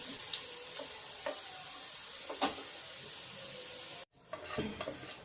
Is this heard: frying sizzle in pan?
yes